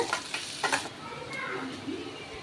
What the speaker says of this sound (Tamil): ரெண்டு வத்தல் ஒரு மிளகாய் சேர்த்துக்கோங்க நல்லா பொரிய விடுங்க